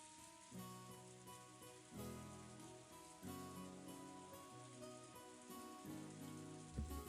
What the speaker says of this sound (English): Outside, the rain started to pour down hard.